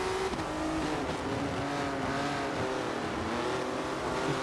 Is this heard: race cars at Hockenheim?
yes